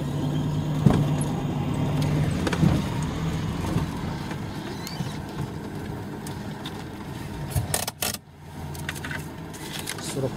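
Sergei's car idles at a fuel station, a low steady engine rumble with rattles and small metallic knocks, a couple of sharper bangs near the end, and faint voices nearby.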